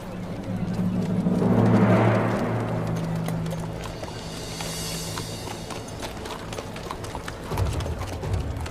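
Horses sent for soldiers clip-clop along steadily, a continuous stream of hoofbeats loudest early on and then easing, with a heavier thump near the end and no voices over them.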